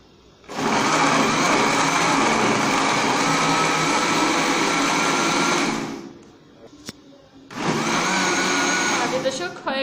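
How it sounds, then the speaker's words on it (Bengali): An electric blender whirs loudly as it blends tomatoes, sugar and water, running steadily for about five seconds, stopping briefly, then starting up again. "ঢাকনা দিয়ে ঢেকে ব্লেন্ডারে বসিয়ে দেব।"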